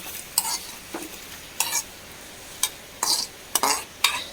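Papadam fries in hot oil and is scooped out, a soft steady sizzle broken by several sharp bursts of crackling and scraping as a ladle stirs and lifts them, close and clear.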